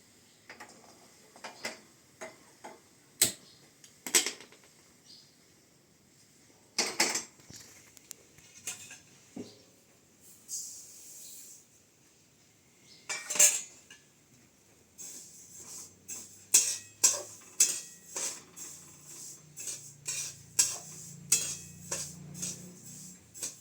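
Sesame seeds dry roasting in a pan for sesame laddoos, heard as scattered metallic scrapes and clinks of a spoon against the pan, irregular and close, growing busier toward the end with no talk.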